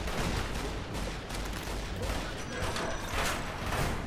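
Rapid gunfire in Fallout: New Vegas on Hardcore Mode, a dense, steady barrage of overlapping shots and bursts filling the whole stretch at constant loudness, with no talk over it.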